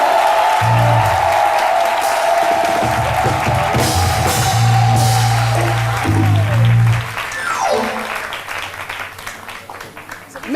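Studio audience applause welcoming Monsieur Dogbo Guy Modeste onto the RTI television show CMIDI, steady clapping with whoops running under a sustained musical jingle and a host's voice, thinning out toward the end.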